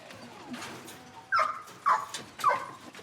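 Three short, sharp barks from farm working dogs at roughly half-second intervals, fairly close, over a quiet outdoor farm background with faint murmuring.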